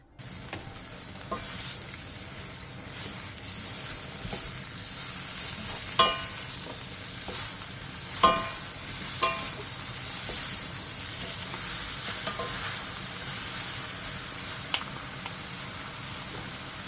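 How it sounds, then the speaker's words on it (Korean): Marinated soup ingredients sizzle steadily in perilla oil in a pot over medium heat, a continuous crackling fry broken by occasional sharp clinks and scrapes of stirring, close by and with no one speaking. "냄비에 들기름 1스푼 반을 두른 뒤 재워놓은 재료를 넣고 중불에서 5분 정도 볶아주세요"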